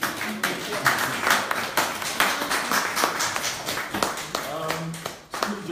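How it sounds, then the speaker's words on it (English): An audience applauds an author at a book event, uneven clapping with distinct individual claps, mixed with people talking over it. "please, another resounding round of applause to our wonderful, tall author"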